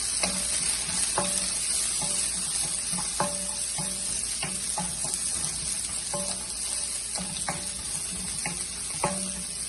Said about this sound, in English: I'll make my eggs, scrambled eggs, but I'm gonna mix them with my rice